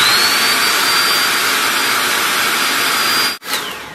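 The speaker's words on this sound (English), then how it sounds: "And you'll just place it and hold your blow dryer to it." A hair blow dryer blasts hot air onto a wig's lace in a loud, steady whooshing roar that briefly cuts out near the end before restarting, with no voices.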